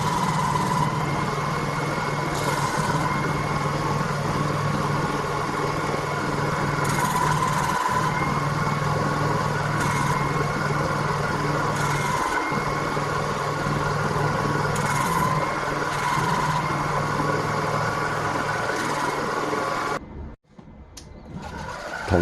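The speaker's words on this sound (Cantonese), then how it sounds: "3塊托板嘅角位咧，打磨成少少嘅弧形，令彎曲背板嗰陣咧可以順滑成形。" A power sander rounds the corners of acrylic board for a kitchen corner stand, giving a steady motor drone close by with regular pulses as the work is pressed, until it cuts off near the end.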